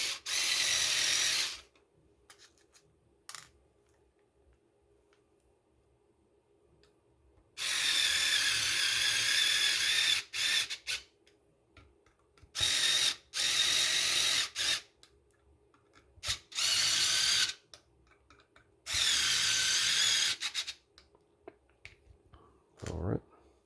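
A small electric driver runs screws into a 1/24 scale RC off-road trailer in several short, close whirring bursts separated by quiet pauses and light handling noises, with someone talking between runs.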